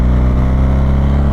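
A 2025 BMW R1300RT motorcycle engine drones loud and close at steady revs, a deep, even mechanical hum with no pauses.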